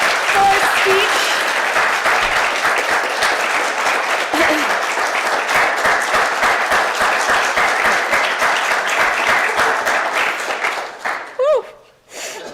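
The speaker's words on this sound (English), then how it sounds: "That was that extra clap." Sustained applause from a gathered congregation after a farewell speech, dense steady clapping filling the room for about eleven seconds before tapering off, with a brief voice and a few scattered final claps at the end.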